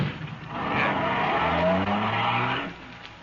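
In a radio drama, a car revs and pulls away with tires skidding and squealing for about two seconds, loud and close, then fades out.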